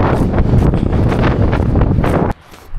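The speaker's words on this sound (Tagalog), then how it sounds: "Lakas ng hangin eh." Strong cold wind batters the microphone in a loud, roaring rush outdoors, then drops off abruptly near the end.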